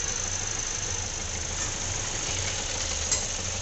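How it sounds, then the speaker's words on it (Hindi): A Kia Seltos diesel engine idles with the heavy bonnet raised, giving a steady, quiet low hum with faint rhythmic pulsing and no voices. "इसमें बहुत कम वाइब्रेशन है और बहुत कम साउंड है इंजन का"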